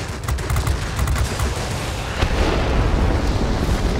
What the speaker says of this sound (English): I'd almost dove into the Sturmovik explosion